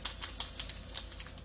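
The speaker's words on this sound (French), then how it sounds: "Les diamants sautent un petit peu de partout là." Small resin diamond painting drills bounce and scatter as they are poured into storage, making a quick run of light, irregular clicks and ticks, close and fairly quiet, with no talking.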